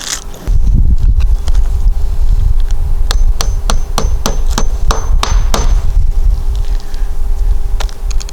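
Sharp, loud hammer blows drive regular roofing nails through asphalt shingles on a backyard pavilion roof, about a dozen strikes in quick irregular bursts over steady outdoor background noise.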